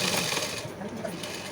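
A sewing machine stitches down both sides of a blouse tie strap, giving a steady close whirring hum that runs without a break through the short moment.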